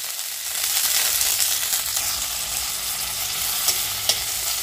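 Chilies and garlic cloves fry in a little oil, giving a steady, close hissing sizzle with a couple of sharp stirring clicks near the end.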